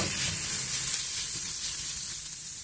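Radish curry sizzles in a pan as it cooks, a steady close hiss with soft crackling throughout and no talking.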